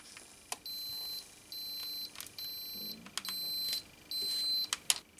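An electric clothes iron left idle sounds its warning beep: five steady, evenly spaced high-pitched tones, each lasting about half a second, with short gaps and a few faint clicks around them.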